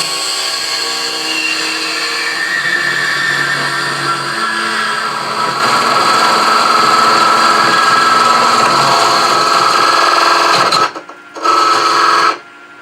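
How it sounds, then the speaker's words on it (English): A wood lathe spins a jewelry box blank while a beading and parting tool cuts a tenon, making a loud, continuous whirring grind with a steady tone that briefly drops out near the end, then returns. "I'm going to use this beading and parting tool."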